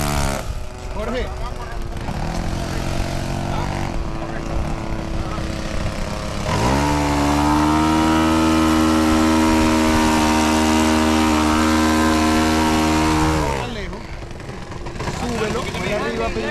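A four-stroke RC model airplane engine drones loudly overhead at an airfield, its steady harmonic tone rising sharply as it passes close, then fading away during the landing, with people talking throughout.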